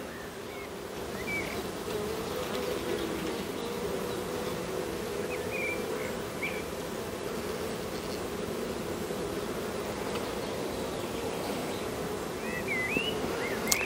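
Honeybees hum in a steady, dense drone throughout a hive inspection after bad weather, close and continuous, with a few brief higher buzzes of individual bees passing near.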